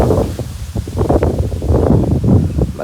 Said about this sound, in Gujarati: બાકી મસ્ત મજાનો ભાઈ પવન છે.